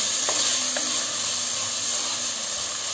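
Chopped tomatoes cook in a hot pan for egg biryani, giving a steady soft sizzle and hiss with a couple of faint clicks of stirring, no voices.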